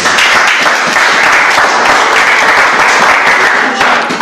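A church congregation applauds loudly and steadily for the Lord, a dense wash of clapping that holds at full strength throughout.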